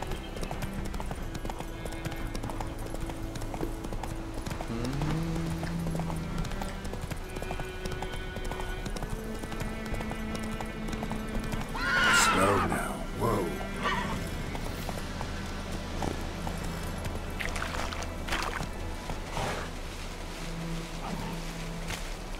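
A horse in a video game trots with a steady clip-clop of hooves and gives a neigh midway, faint and distant under a low ambient game background, with occasional quiet speech.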